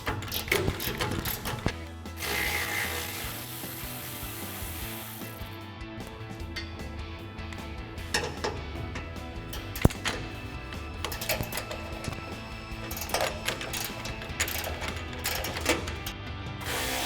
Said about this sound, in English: So we're going to use our 10mm socket and remove those bolts.